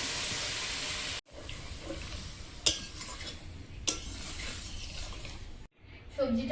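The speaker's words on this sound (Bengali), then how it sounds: "এবার জল দিয়ে দেবো।" Water poured into a hot pan of fried shrimp and vegetables, a sizzling hiss with a few sharp clanks of utensils against the pan, then a burst of louder bubbling at the end.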